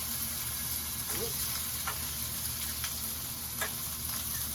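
Bacon and eggs frying in a pan, a steady close sizzle with scattered crackles and pops, and a few faint clicks from utensils.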